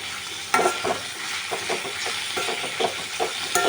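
Ridge gourd peel chutney ingredients sizzle in a pan while being stirred, with several scraping strokes of a spoon over a constant frying hiss, close and with no talking.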